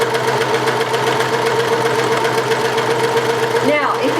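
A serger sewing machine runs steadily at slow speed through fabric, giving a continuous close mechanical hum with a faint rhythmic whir, and a brief high squeak near the end.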